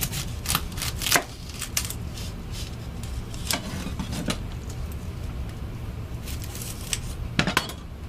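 A sharpened vegetable knife chopping a good-sized onion on a board, a series of crisp, irregular close cuts and taps over a low background hum, with no voices.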